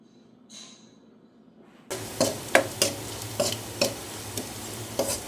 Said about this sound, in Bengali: এই পেঁয়াজ মরিচটাকে একটু নেড়ে চেড়ে লালচে করে নিয়ে